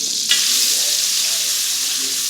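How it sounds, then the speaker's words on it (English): Homemade Mexican chorizo lands in hot bacon fat with a sharp crackle, then settles into a loud, even, close-up frying hiss that continues throughout. "I'm actually going to throw the chorizo in first."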